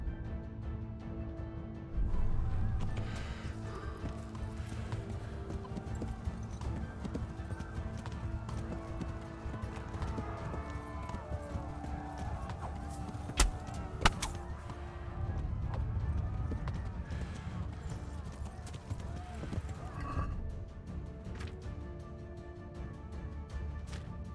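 Horse hooves clip-clop steadily through a soundscape from the video game Kingdom Come: Deliverance, with intermittent neighs and thumps over a constant low ambient drone.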